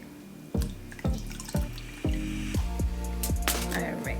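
Warm water splashes from a tap onto reusable makeup removal pads, starting as a few separate drips and pours before settling into a steady running stream, close and fairly quiet.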